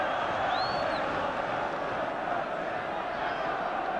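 A large football crowd at a 1977 Sunderland vs Spurs match roars in a continuous, distant wash of noise, with a whistle-like tone briefly cutting through early on.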